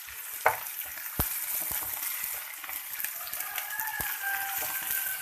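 Fenugreek leaves fry in oil with garlic, a steady close sizzle with scattered pops and the scrape of stirring throughout.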